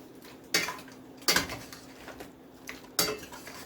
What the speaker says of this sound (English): let's stir this now.